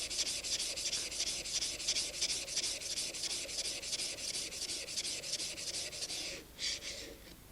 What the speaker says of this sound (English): turn the blade over, flat on the surface of the stone,